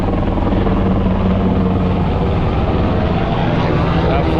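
Aircraft flying by over the ocean near San Clemente Island during a sportfishing trip, a loud steady roar of engine and propeller noise at close range that holds throughout, with wind and boat noise beneath.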